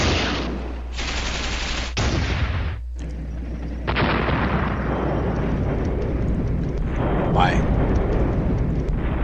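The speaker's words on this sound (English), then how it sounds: "he brings artillery onto my headquarters and my anti-tank section, destroying 1 more anti-tank gun" A video wargame gives a continuous roar of artillery fire and explosions with rumbling bursts and cut-off blasts, and someone talks over the barrage.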